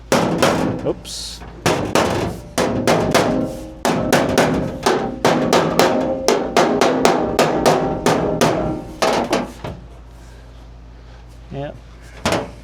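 Hammer tapping a floor pan brace into place during rusted floor pan replacement: a long run of sharp metallic knocks in steady bursts, loud and close, with brief talk in between.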